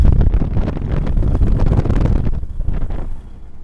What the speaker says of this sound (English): it got a little bit windy there